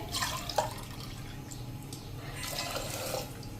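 Water splashes and trickles in short bursts, about 300 ml poured into a cooking pot of field beans, fairly close and moderately quiet.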